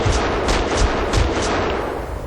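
Gunfire in the video game Max Payne 2, a rapid run of loud, close shots that thump in quick bursts over a dense, continuous battle din, with no talking.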